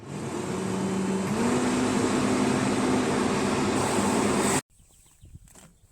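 Ventilation fan in a UAZ Buchanka van (1958-design classic) runs with a loud, steady whirring drone and a rising tonal hum, then cuts off abruptly, leaving a quiet cabin with faint knocks.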